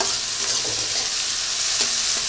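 Chopped onions frying in hot oil in a home kitchen, a dense continuous sizzle with a few faint scrapes of stirring.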